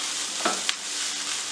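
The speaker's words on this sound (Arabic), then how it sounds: "بعد ما خلصت البصل مع المشروم اسيبه يتحمر مع بعض شويه" Onions and mushrooms fry together in a pan with butter, giving a continuous close sizzle with a couple of brief scraping stirs partway through.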